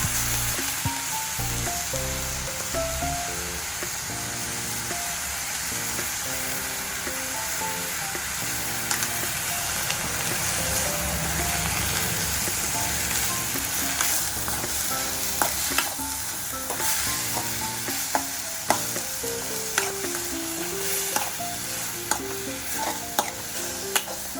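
Tomatoes with salt fry in a pan for chutney, a continuous sizzle with stirring scrapes and soft clacks, a light rhythmic tapping later on, and faint background music underneath.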